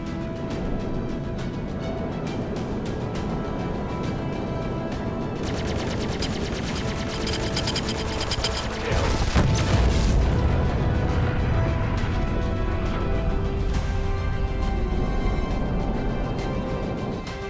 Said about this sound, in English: Port shield under fire.